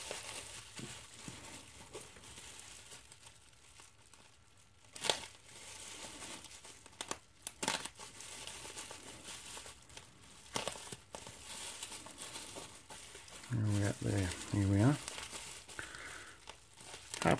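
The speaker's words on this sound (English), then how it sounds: "Unwrapping bubble wrap." Bubble wrap being unwrapped from model railway rolling stock: quiet intermittent rustling and handling, then a louder run of crinkling plastic near the end.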